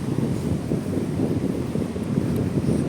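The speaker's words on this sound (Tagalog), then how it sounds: "ang ganda ng simoy ng hangin dito" A steady breeze rushes across the microphone at a Sha Tin bus stop, a continuous low, broadband wind roar with no voices.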